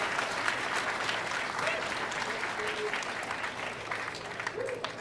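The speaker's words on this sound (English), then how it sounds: "Give these guys a round of applause." Audience applause fills a fan panel discussion at an MLG Raleigh 2010 gaming event, a sustained dense clapping from a crowd that holds steady throughout.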